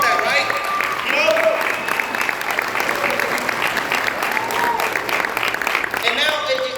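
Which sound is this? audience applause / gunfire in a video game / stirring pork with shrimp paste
audience applause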